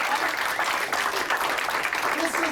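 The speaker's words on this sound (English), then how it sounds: "Give yourselves a round of applause." An audience at a sales meeting claps together, a short burst of dense, even applause that stays steady and moderately loud, with a voice faintly mixed in.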